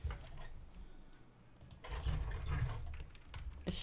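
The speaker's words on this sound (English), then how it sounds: "Here, I'll type it." Soft, close typing on a computer keyboard, a quick scatter of light clicks and taps that thickens into a busier flurry in the second half against a low background hum.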